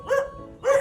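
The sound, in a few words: dog barking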